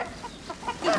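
Hens cluck softly in short, scattered bursts, nearby but faint, with a slightly louder flurry of clucking at the end.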